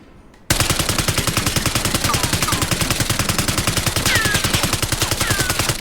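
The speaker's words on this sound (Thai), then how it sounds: "เดี๋ยวเราไปลองยิงกันดูดีนะครับผม ในห้องซ้อมเขาเป็นไงบ้าง" PP-919 submachine gun in Black Ops 6 firing one long continuous automatic burst on a practice range, loud and close, with rapid evenly spaced shots and faint shell-casing tinkles beneath.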